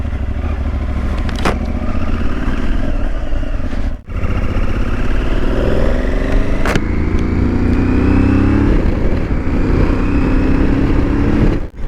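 Aprilia Tuareg 660 motorcycle engine running close by with repeated throttle blips and revs rising and falling, a rough mechanical clatter underneath, and two short breaks in the sound.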